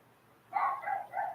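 A dog barks three times in quick succession, fairly close and clear, with a short pause between each bark and quiet room tone before.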